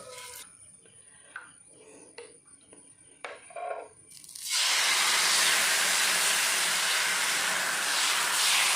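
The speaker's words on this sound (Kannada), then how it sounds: "ಒಂತೆ ಪೊರ್ತು ಫ್ರೈ ಆವಾಡು ದೋಸೆ ಒಂದು ಇದು ಫ್ರೈ ಆತದು" Neer dosa frying in oil on a pan gives a sudden, loud, steady hiss that starts midway and holds close and bright to the end, after a quieter stretch of faint kitchen clatter.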